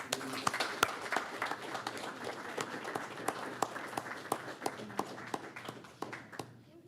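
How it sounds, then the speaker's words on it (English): A city commission meeting audience applauds a student athlete, with steady moderate clapping and sharper individual claps standing out before it tapers off near the end. "Let's give her a round of applause."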